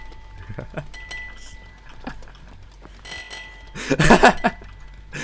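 A repeated bell-like ringing in the Dead by Daylight video game sounds as a string of short metallic chimes, followed by a louder burst of clattering noise near the end.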